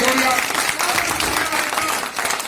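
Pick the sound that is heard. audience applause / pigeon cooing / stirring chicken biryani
audience applause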